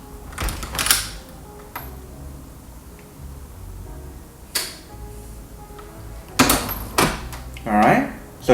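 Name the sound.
door opening to trigger SwitchBot motion sensor and button pusher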